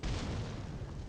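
A dense, rumbling blast from the video game Skyrim fills the moment, loud and close, with broad low-end boom sustained for about a second and no talk over it.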